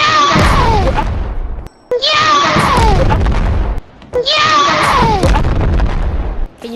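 A voice imitates a rocket launcher explosion in a VR game session, three loud, booming mouth-made blasts, each a harsh noisy burst that trails off, separated by short gaps.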